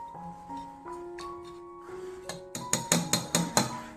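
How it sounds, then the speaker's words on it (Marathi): A masher smashing cooked snake gourd pieces, a run of quick close taps and soft thumps near the end, after a stretch of faint background tones. "आता मी स्मॅशरने थोडंसं स्मॅश करून घेते."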